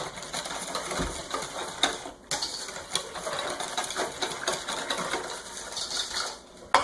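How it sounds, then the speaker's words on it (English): Banana pudding mixture being stirred in a large pot, with a busy run of metallic spoon scrapes and clinks against the pot and a brief louder knock, close and continuous with no talk. "once I've finished stirring"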